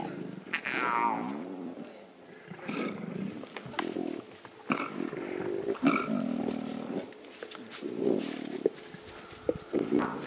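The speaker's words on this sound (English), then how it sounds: "Those are cubs growling." Lion cubs growl and rumble in the wild on a sunrise safari, a run of low, rough growls and snarls coming in bursts, fairly close and loud, with brief pauses between.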